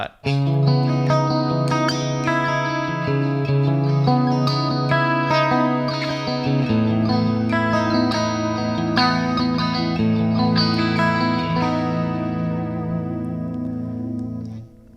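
Clean electric guitar, a budget Monoprice Indio Helix Strat-style model on the second and fourth pickup positions, plays continuous chords and arpeggiated notes with a shimmering chorus-like sheen, steady and close for the whole stretch, no voices.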